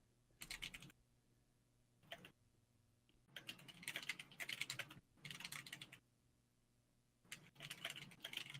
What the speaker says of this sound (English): I'm typing a quick apology to my mom